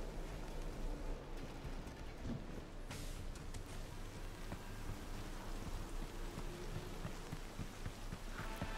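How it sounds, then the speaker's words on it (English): Rain falls in the video game Cyberpunk 2077, a faint steady wash of drops pattering on surfaces with a soft low rumble beneath, unbroken and without voices. "Raining."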